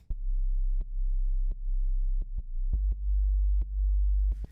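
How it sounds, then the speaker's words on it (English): A deep pure sine-wave bass from Ableton Operator drones steadily, each note starting with a short click, in an even rhythm of sustained low tones, loud and isolated. "That's what it sounds like, just a sine wave."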